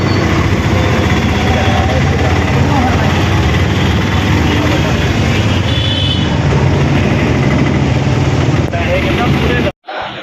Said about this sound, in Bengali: আমি অটো করে যাচ্ছি